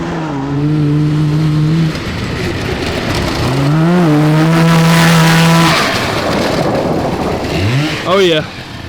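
2-stroke 440cc cross kart revving hard with rising and falling engine pitch while power sliding, loud and close, with tire scrub and a speaking voice mixed in.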